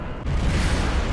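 A loud, broad explosion from the Shin Godzilla film bursts in suddenly and holds as a deep, rumbling roar for about a second.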